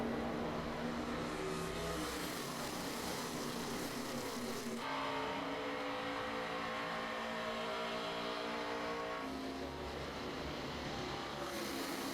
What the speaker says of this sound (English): 26 cars on the lead lap as the green flag waves again.